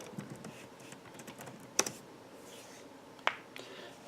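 Quick bursts of keystrokes on a laptop keyboard, with light clicks and a couple of louder taps, close and alone in a quiet room.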